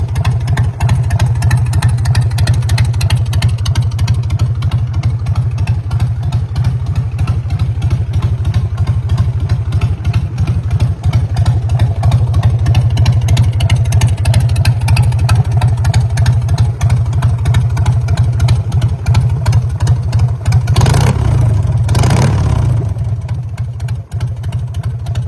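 A 1977 Harley-Davidson Shovelhead custom motorcycle idles with a loud, steady low-pitched rumble and lumpy firing rhythm close by, then revs briefly near the end before settling back.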